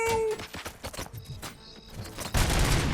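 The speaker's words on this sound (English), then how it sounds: "Gunshots? What's going on?" Gunfire in the Robocop: Rogue City video game, a series of sharp, irregular shots ending in a louder, denser burst of fire.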